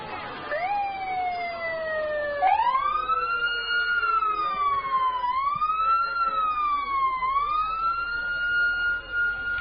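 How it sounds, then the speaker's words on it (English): An ambulance siren wailing in a Christmas parade in the Comox Valley, rising and falling in long sweeps, fairly close and steady, with faint crowd noise underneath. "it's nice to hear that sound of the siren in context of such joy"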